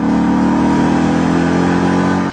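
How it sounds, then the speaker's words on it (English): A Ford Mustang GT V8 revs hard in one long, steady, loud roar with a deep throaty note, held close for about two seconds before cutting off sharply. "We just love this engine. It sounds just like Frank Bullitt's car in the movie."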